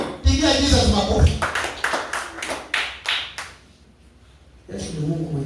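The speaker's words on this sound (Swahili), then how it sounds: "Pigia Jesus makofi" Church worshippers applaud for Jesus after a shouted call from the preacher, a loud burst of sharp rhythmic clapping that fades into a brief lull before the preacher's voice returns.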